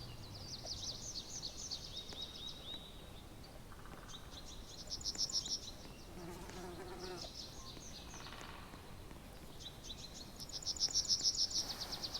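Bees in a Roblox tycoon game hum in buzzing bursts, swelling and fading in several waves over an outdoor ambience with faint chirps, moderately loud and fairly close.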